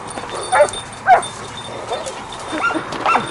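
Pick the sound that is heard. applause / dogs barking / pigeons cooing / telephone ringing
dogs barking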